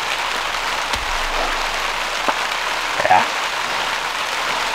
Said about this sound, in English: I don't think the rain's gonna stop anytime soon.